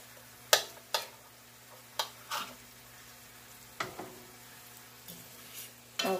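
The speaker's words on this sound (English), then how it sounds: "I'm going to cut that onion up a little bit." An onion being cut with a knife, a handful of sharp, separate chops spaced irregularly, close and fairly quiet over a low steady background hum.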